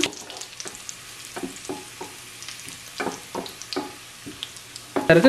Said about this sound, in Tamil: காஞ்ச மிளகாய் போட்ட அப்புறம் ஒரு 30 செகண்ட்ஸ் இதை பொரிச்செடுப்போம்.